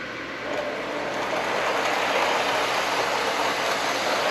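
A small Hornby model train rumbles steadily along its track, a continuous whirring hum with a faint rhythmic clatter and no voices.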